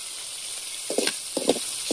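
Hot oil spits and sizzles while tamarind rice cooks, with a steady background hiss broken by several sharp crackling pops near the end.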